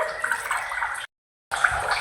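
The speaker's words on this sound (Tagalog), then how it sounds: "Tubig gamay, butangan." A little water is splashed into leftover food cooking in a pan, a close, steady hissing pour briefly cut off, then resuming.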